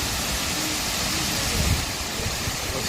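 Waterfall at Pingxi, Taiwan seen head on, a steady broadband rush of falling water, loud and continuous with no clear pauses.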